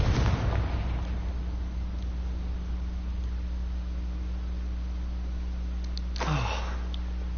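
The Confringo fire spell goes off in Hogwarts Legacy with a deep booming blast at the start, then rumbles away under a steady low background hum, and a brief swooping burst comes near the end.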